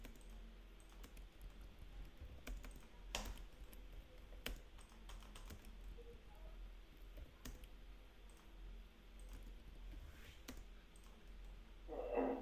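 Computer keyboard typing an AutoCAD command, steady soft key clicks running throughout at low volume, with no talking.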